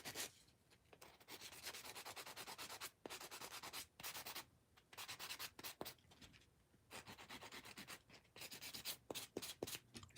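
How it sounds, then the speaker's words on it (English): A nail buffer lightly rubs over sealed foil nail art in soft, quick sanding strokes, coming in uneven bursts with brief pauses, close and quiet. "Just take you a little light buffer."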